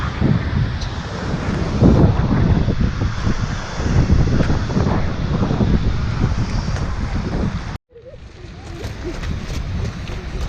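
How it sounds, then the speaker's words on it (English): Roar of Skogafoss waterfall in Iceland, a loud, steady broadband rush heard up close and buffeted by wind on the microphone, cutting out briefly near the end before resuming a little quieter. "The Skogafoss waterfall."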